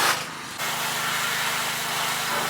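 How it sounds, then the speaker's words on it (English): Rust deadener sprayed under a Ford F250 HD pickup, a steady close hiss of aerosol spray running continuously with a brief quieter pause near the start. "we have sprayed some rust deadening stuff"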